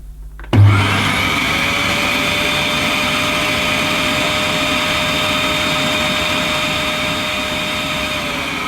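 An Electrolux Xio Compact vacuum cleaner with a 1300 watt motor starts with a sudden thump, then runs as a loud, steady, close whine and roar that holds nearly unchanged to the end.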